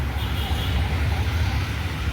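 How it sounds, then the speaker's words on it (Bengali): Road traffic passes on both sides of a leafy spot in Dhaka, a dense low rumble of engines that stays steady and moderately loud with no clear single vehicle. "দুপাশে প্রচুর গাড়ি চলতেছে শব্দ আছে প্রচুর"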